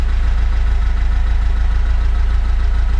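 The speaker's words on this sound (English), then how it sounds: "Just nice under 1000 RPM over there. Pretty perfect. Quite stable, not missing. You can hear the exhaust is stable." A 50-year-old car engine idles steadily just under 1000 RPM, not missing, with a low, even exhaust rumble and a regular pulsing beat, close by and alone.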